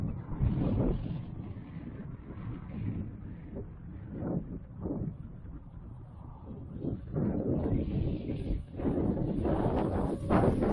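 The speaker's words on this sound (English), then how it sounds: "A bit windy." Strong wind buffets the microphone in rumbling low gusts, rising and falling continuously, loudest near the start and the end.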